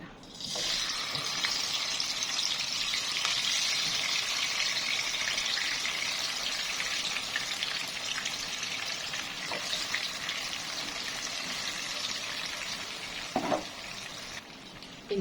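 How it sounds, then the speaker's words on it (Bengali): Hilsa fish frying in hot oil in a wok, a loud, steady close-up sizzle that holds throughout with faint stirring and a brief clatter near the end. "আমি কড়াইতে তেল দিয়েছি। এখন আমি মাছটা দিয়ে দিব।"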